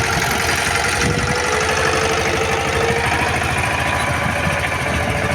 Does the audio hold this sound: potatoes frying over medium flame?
no